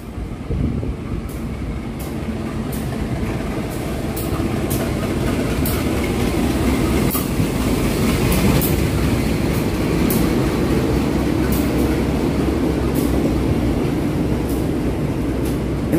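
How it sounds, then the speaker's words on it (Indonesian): The Bangunkarta passenger train rumbles past steadily and loudly, with rhythmic clicking of wheels over rail joints running throughout. "Kereta api Bangunkarta."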